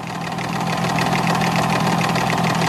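A small 3D-printed Pelton turbine spins steadily with a loud, continuous mechanical whir and a low hum, holding constant throughout with no voices.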